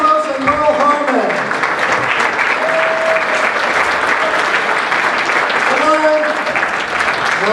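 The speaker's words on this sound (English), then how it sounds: "give another round of applause" A theatre audience at a magic show applauds magicians with steady, full clapping throughout, while voices and cheers rise over it near the start and again near the end.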